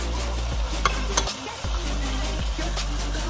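Vinegar poured into a pot of cooking pork pata, heard as loud steady sizzling with scraping stirs and a few light clinks of a utensil against the pot, no voices.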